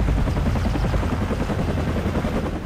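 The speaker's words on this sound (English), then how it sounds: "Helicopter." Helicopter in Call of Duty 4: Modern Warfare on Xbox 360, a steady low rotor drone with fast rhythmic chopping that fills the whole stretch, loud and close with no talk.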